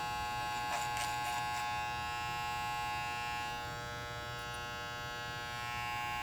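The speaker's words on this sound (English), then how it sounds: "I've gone for this clipper over comb purely because of the growth patterns in his hair" Electric hair clippers buzz steadily over a comb while cutting a man's hair, a close continuous whine with a few brief snipping bursts near the start.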